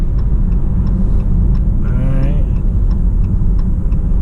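A 2018 Chrysler 300 on a road drive, its engine and road noise a steady loud rumble from inside the cabin, with a brief rising whine in the middle and someone talking over it.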